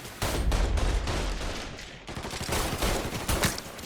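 Heavy gunfire in Mafia III, dense rapid bursts of shots cracking close and loud, nearly continuous with a brief lull before resuming.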